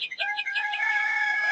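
A rooster crows once at village dawn, a bright, drawn-out call that rises in short stuttering notes and then holds a long, sustained tone, heard fairly close and alone.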